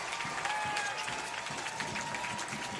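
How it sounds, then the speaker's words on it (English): A stadium crowd in Sacramento cheers and claps after a goalkeeper's save at a professional soccer match, a dense, continuous roar of applause throughout. "the crowd is loving it here in Sacramento"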